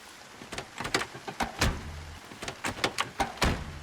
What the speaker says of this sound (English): Closing this door.